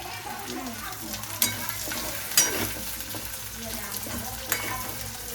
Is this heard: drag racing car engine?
no